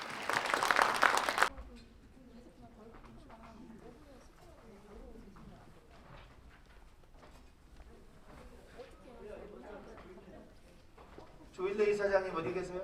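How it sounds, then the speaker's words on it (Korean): Applause from a crowd at a commemoration ceremony and book launch breaks out at the start and again near the end, with low murmured talk and shuffling between the two bursts. "박수"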